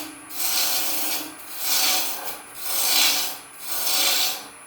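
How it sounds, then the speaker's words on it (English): Parting tool cutting into spinning wood on a lathe while turning candlesticks, making four rhythmic rasping scrapes that swell and fade as the tool moves in and out, close and fairly loud. "I'll switch back and forth the parting tool, take it a little deeper."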